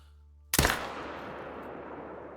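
A single rifle shot fired at a deer in the hunting game Call of the Wild, one sharp loud crack out of near silence followed by a long, slowly fading echo tail.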